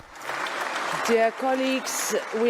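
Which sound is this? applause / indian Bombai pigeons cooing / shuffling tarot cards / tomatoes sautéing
applause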